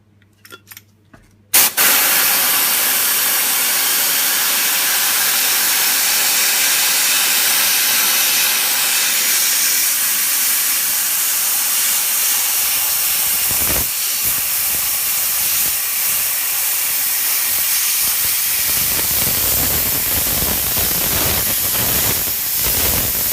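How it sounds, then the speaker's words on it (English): Automotive sprayable seam sealer blasting from a high-pressure spray gun into car body folded joins, a loud steady hiss that starts abruptly after a moment of quiet and runs continuously, close and alone. "So we know we've got some high pressure into that sealer, which is going to force it into those joins"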